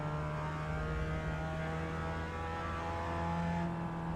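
A Mazda MX5 accelerating down the straight at Laguna Seca in iRacing, its engine a steady, rising tonal drone with clear harmonic whine, held continuously and alone without talk.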